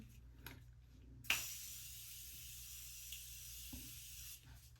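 A soft, steady hiss of Morphe setting spray starts abruptly and continues for about three seconds before stopping, in a quiet room.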